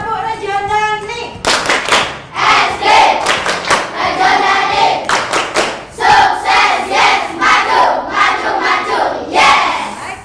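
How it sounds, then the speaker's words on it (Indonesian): A class of primary schoolchildren claps in bursts and chants a rhythmic cheer together, loud and close, with sharp hand claps punctuating the group voices. "Tepuk rejonan nih."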